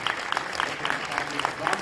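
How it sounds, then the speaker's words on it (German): Audience applause at a German film premiere Q&A panel for One Piece Stampede, a brief, moderately distant patter of clapping with a voice speaking over it. "Nochmal einen Applaus an diese tolle Arbeit von der Tolle."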